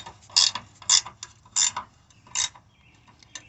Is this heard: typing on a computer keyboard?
no